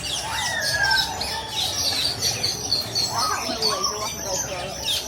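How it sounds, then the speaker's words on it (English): Birds chirp and call repeatedly in trees at Disney's Animal Kingdom on a gloomy day, steady tweets and whistles over a busy outdoor background with people talking nearby. "You said the birds are nesting around."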